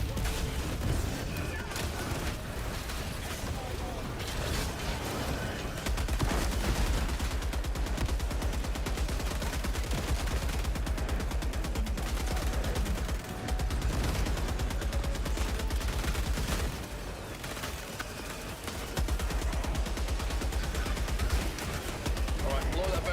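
Sustained bursts of video game gunfire from a squad shooter, with rapid automatic fire and heavy booms running nearly continuously and loud throughout, while people talk over the action.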